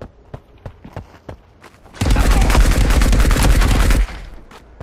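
Gunfire in the Marauders video game, where a headshot lands: scattered single shots and footsteps at first, then a loud two-second burst of sustained automatic fire, followed by quieter scattered sounds.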